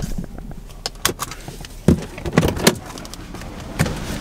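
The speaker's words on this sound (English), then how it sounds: "Do some people like the sound of people getting out of their car or what?" A person climbs out of a parked car, with a series of close, sharp clunks and rustles from the door and handling, irregular and fairly quiet, with no talking.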